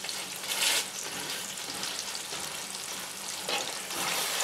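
Potatoes fry in a cast iron pan with a dense, close crackling sizzle. Short bursts of scraping come as they are pushed around the pan's bottom.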